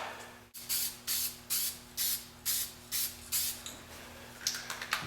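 Self-etching primer hisses from a spray can in a series of about eight short, evenly spaced bursts, fairly close and alone, with a steady low hum underneath.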